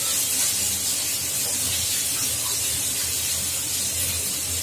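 Water pours and splashes into a bowl coated with sour yogurt to rinse it, a continuous broad hissing rush, close and loud throughout.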